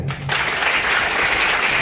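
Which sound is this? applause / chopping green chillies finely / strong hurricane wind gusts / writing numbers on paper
applause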